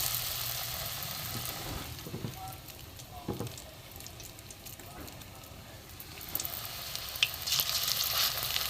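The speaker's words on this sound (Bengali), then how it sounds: "সাদা তেল দিয়েছে ভালো গরম হয়েছে সাদা তেলেই আমি ভাজবো" Tikiya patties made from helencha greens, rice flour and gram flour frying in hot white oil, a steady fizzing sizzle with a few soft clinks and occasional louder crackles toward the end, no talk.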